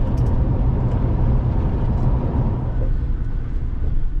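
A truck driving along a road on the way to plant cotton in the mountains, a steady low engine rumble with road noise that fills the whole clip from close inside the cab.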